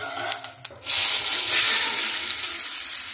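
Milk poured into a hot pan with spices for an aloo dum curry, erupting into a loud, steady sizzle after a few quiet stirring clinks.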